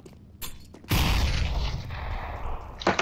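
Gunfire in the video game CS:GO: a few sharp shots followed by a loud sustained burst that rings out and fades, heard alone without voices.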